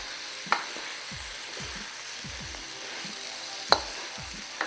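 Kimchi fried rice with a splash of marinade sizzles steadily in a wok, a continuous hiss of frying broken by a few sharp clicks of a utensil against the pan.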